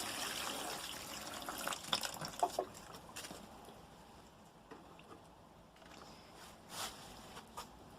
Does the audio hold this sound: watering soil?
yes